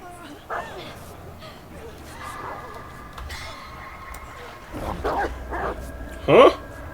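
A dog in the video game Dead by Daylight barking and yipping in short scattered bursts, mostly faint with one louder close yelp near the end, under a low ambient game hum and intermittent talking.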